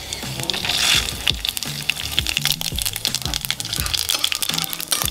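Mustard oil hits a hot pan and sizzles with a crackling, bubbling hiss, loud and close, with soft clinks of cookware underneath and no one talking.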